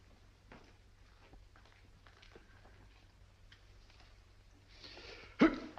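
A single sudden sneeze bursts out near the end after quiet room noise and faint shuffling, short, sharp and fairly close.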